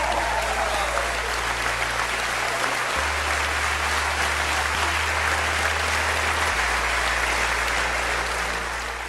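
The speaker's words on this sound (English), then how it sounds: "everybody starts applauding for like 5 minutes straight" A large audience at CERN applauds the Higgs boson 5 sigma announcement with sustained, dense clapping that fills the room, steady and loud throughout with a low hum underneath.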